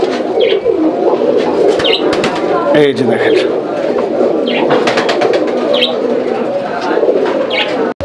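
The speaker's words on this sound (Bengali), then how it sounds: "এটা হচ্ছে গ্রেবার লাহোরি কবুতর একটা পেয়ার" A pair of grey Lahori pigeons coo softly at a market stall, with low repeated murmuring coos heard under steady nearby talk and background chatter.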